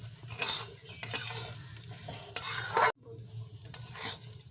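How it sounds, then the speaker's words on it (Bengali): Gobindobhog rice flour with almonds frying in ghee as a spoon stirs and scrapes the pan, a close sizzle with scraping strokes and a brief break in the middle. "এই ঘি দিয়ে চালটাকে ভালো করে ভেজে নেব"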